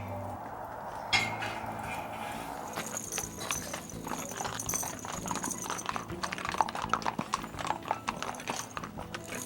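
Dozens of Icelandic horses walk along in an uneven, continuous patter of hoof clip-clops, close and moderately loud, with faint background voices.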